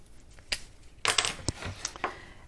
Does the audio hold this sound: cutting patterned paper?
yes